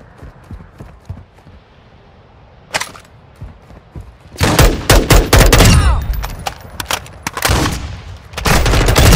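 Bursts of automatic gunfire in Call of Duty Warzone 2, scattered single shots at first, then loud sustained volleys that cut off and restart, alone with no talk.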